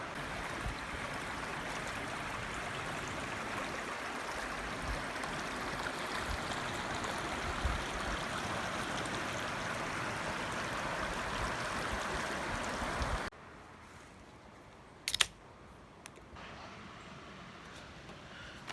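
Carp River flowing past a campsite in Fitzroy Provincial Park, a steady, close, even rushing of water that runs unbroken for about thirteen seconds, then cuts off to near quiet with one brief sharp knock.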